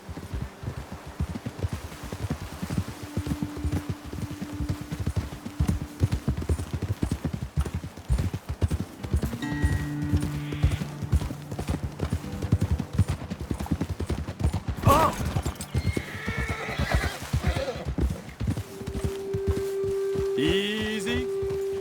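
Horses trot over a trail in Red Dead Redemption 2, their hooves clip-clopping in a steady rhythm throughout. Faint game ambience sits underneath, a horse snorts once, and brief tones sound near the end.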